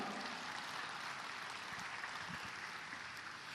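Congregation clapping during a church service, a dense, steady wash of applause that fills the whole moment evenly without letting up.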